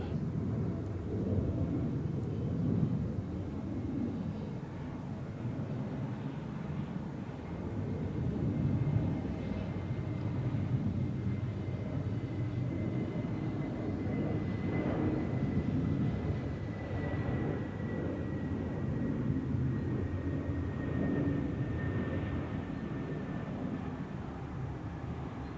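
A TAP Air Portugal A320neo on final approach at Zurich Airport gives a steady, loud, continuous jet roar with a faint rising whine, holding at an even level throughout with no talk over it.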